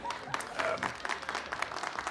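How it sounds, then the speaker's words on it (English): A crowd of people applauds in brief, dense clapping at moderate distance, with voices murmuring underneath. "You're clapping for him?"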